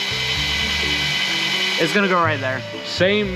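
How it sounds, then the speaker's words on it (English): Power drill boring a hole in the body of a 1954 Chevy 3100 pickup to mount an oil filter, a loud close whine that rises and shifts pitch, with someone talking over it. "Right now I'm just drilling a hole."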